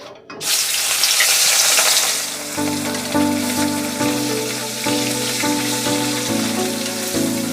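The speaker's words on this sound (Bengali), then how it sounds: "এবার মাছ দিয়ে দেবো" Loud, steady sizzling of rohu fish pieces frying in hot oil with a little turmeric, crackling and spitting continuously with no voices.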